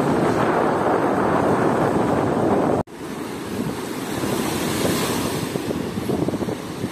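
Sea waves break and wash up on a shell-strewn beach at Anapa, with a loud surging rush, a brief cut, then steadier foamy wash and wind buffeting the microphone.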